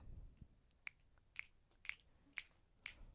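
Finger snaps at a steady, fairly quick tempo, five crisp sharp clicks about half a second apart, close and clear with no talking.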